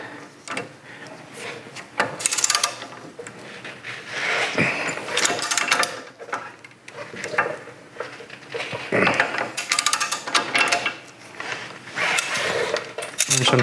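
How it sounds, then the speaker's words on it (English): A torque wrench with a U-joint socket ratchets and clicks while tightening upper control arm bolts on a 100 Series Land Cruiser, close-up mechanical clatter in bursts with brief pauses. "I'll torque these to 98 Newton meters"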